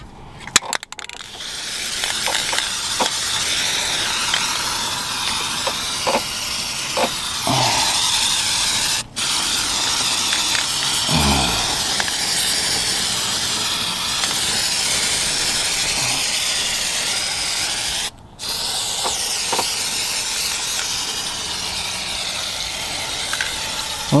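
Continuous hiss of an aerosol spray can coating a car's fender wells with primer while rust is being dealt with, loud and steady for about twenty seconds, broken by two short pauses.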